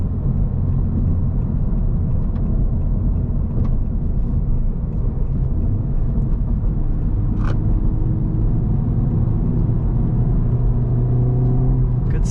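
A 2023 Honda Civic Type R FL5 laps a race track at Gingerman at a relaxed pace with high oil temperature, its engine a loud, steady drone throughout, with a few faint clicks and no clear voices.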